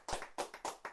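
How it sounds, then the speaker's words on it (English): Studio guests clap for a visitor during a talk show, a few sharp, close hand claps in a loose, uneven rhythm, roughly four or five bursts within a second, with no speech over them. "let's make some noise and clap for Stinx in the building."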